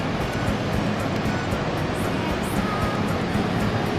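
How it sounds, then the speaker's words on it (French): Steady roar of a waterfall on the Mekong river in Laos, loud and close, a continuous broadband rush of falling water with no break across the whole span. "C'est la deuxième cascade du Mékong."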